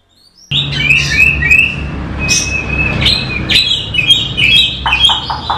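A kacer, or oriental magpie-robin, sings loud, close, varied phrases of clear whistles and chirps that rise and fall, repeated in quick bursts with short gaps, over a faint low background rumble.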